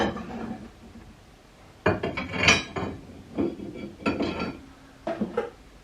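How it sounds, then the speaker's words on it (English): Metal rebar rods slid one by one into the lug nut holes of old brake rotors set in a welding jig, giving a series of close, bright metallic clinks and scrapes in separate bursts with pauses between. "we're just going to slide our rebars into the lug nut holes"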